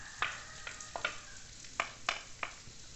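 Onion frying in dendê palm oil gives a quiet, low sizzle under a handful of sharp clicks and scrapes from stirring, spaced irregularly.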